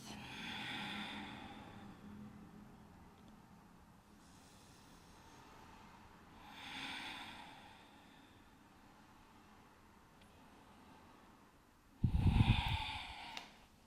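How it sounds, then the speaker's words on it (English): Slow, deep breaths during a yoga flow, long soft airy inhales and exhales spaced several seconds apart, faint and close, ending in one louder, rougher breath. "I invite you to close the eyes and come back to your breath"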